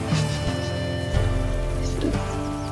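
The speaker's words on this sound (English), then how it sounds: "of course it's raining now" Rain falls in the video game WolfQuest, a steady patter spread across the whole stretch, mixed with sustained game music tones, with no talking over it.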